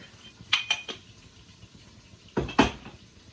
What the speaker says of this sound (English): Let me mix that up because that salt went down in a big clump